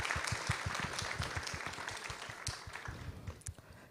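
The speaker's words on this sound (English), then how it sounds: "So a big round of applause to everyone." Applause from newly admitted college students at an induction ceremony, a moderate rippling patter of many hands that stays fairly steady and slowly thins toward the end.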